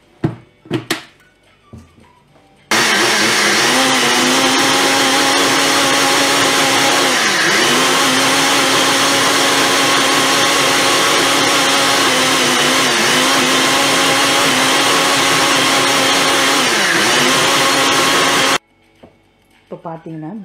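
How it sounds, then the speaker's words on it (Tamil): An electric blender whirs loudly and steadily for about sixteen seconds while blending a blueberry banana smoothie, its motor pitch dipping briefly several times under load, with quieter kitchen noises before and after. "இப்போது இதை நல்லா பிளெண்ட் பண்ணி எடுக்க போகிறோம்"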